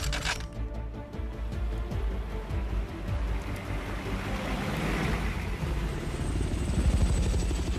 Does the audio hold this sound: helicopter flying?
yes